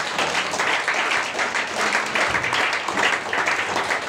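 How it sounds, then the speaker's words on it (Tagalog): A church congregation at a Sunday service applauds to praise God, giving dense, continuous clapping at moderate distance throughout, with a faint murmur of voices underneath. "Kaya sa lahat ng umaani ng blessings, palakpakan natin ang Panginoon."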